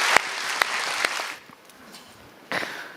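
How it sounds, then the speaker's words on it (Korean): Church congregation claps briefly and unevenly, a moderate burst that drops away into near quiet, then a fresh swell of applause returns at the end. "힘찬 박수 부탁드립니다."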